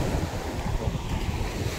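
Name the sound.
ocean waves on a beach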